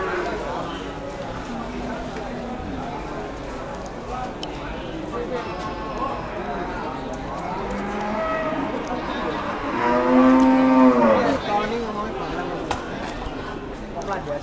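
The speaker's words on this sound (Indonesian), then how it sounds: "Dua ekor sapi baikon." Cattle at the Pati cattle market in Central Java give a drawn-out moo amid busy market crowd noise, with people talking close by throughout.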